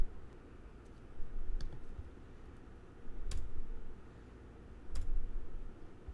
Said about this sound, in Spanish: Damos clic en continuar, clic en modificar y listo